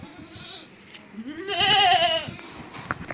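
A farm goat bleats once, a loud, wavering, drawn-out call near the middle, close by in a rural yard with faint background noise and little speech.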